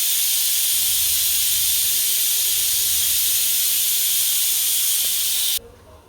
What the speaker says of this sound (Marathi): कुकरची बघा शिट्टी